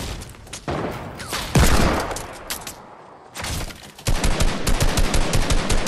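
Rapid gunfire in a video game shooter rattles loudly and close in sustained bursts, with a short lull before a renewed fusillade of quick repeated shots.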